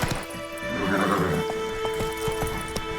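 A horse in The Witcher 3: Wild Hunt whinnies and then gallops, with clip-clop hoofbeats falling in a steady rhythm close by.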